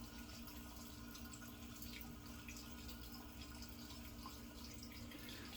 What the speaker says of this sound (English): Switching warm water over to cold water in the sink while my washcloth has warm water in it.